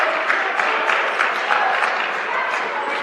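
Steady applause from a crowd in a gym at a high school boys basketball game between Fort Lupton and Fort Morgan, a dense, sustained clapping that fills the room at close range.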